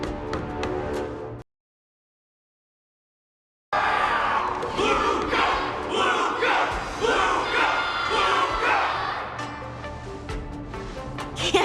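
A game crowd in Honkai: Star Rail roars and cheers in rhythmic rising chants, loud and close, after a brief burst of sound and a short silent gap.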